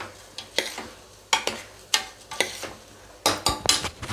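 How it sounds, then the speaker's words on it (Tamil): Rice for potato peas ghee rice stirred in a pan with a spoon: repeated close scraping strokes against the metal, about eight bursts in quick irregular rhythm over a low background hum, with no talk. "நல்லா மிக்ஸ் பண்ணி விட்டுக்கோங்க."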